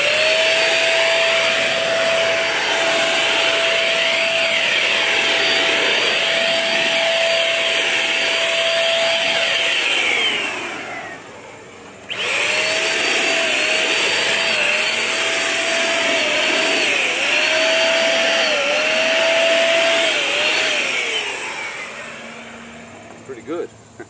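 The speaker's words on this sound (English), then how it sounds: "HomeRight Command Max, HVLP sprayer. Going to do a little test area down here on the bottom just to get a little used to the feel of the gun." A HomeRight Command Max HVLP paint sprayer runs with a loud, steady turbine whine and hiss, close by and continuous, briefly cutting out mid-way before resuming at full strength, with small clicks near the end.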